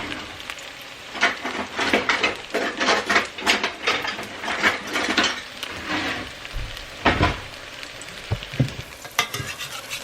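A salmon fish cake fries on a hot plate, with a dense crackling sizzle running throughout. Scraping and stirring knocks sound up close, and a few heavier thumps come near the end.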